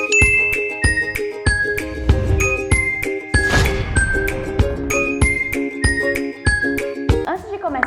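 Bright chiming notification bell jingle, a series of sparkling ding and tinkle tones repeating in quick rhythm over a music bed, loud and close.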